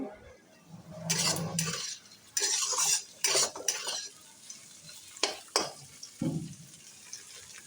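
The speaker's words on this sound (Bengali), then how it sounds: "চিচিঙ্গা ভাজা" Snake gourd frying in a pan in a home kitchen, stirred with a metal utensil. Repeated scraping and clattering strokes come close and loud over a soft background sizzle, with no talking.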